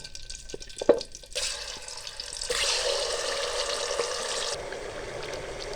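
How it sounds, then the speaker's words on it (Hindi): Chicken pieces for a highway-style karahi drop into hot oil with a sharp clatter, then a loud, steady frying hiss rises and holds before easing slightly near the end, close by and without talking. "ऑयल हमारा गर्म हो चुका है। इसमें चिकन शामिल करेंगे।"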